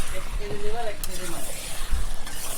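Meat and liver hit a hot cooking pan, giving a close, short sizzle with light clinks from the pan, while a voice talks over it.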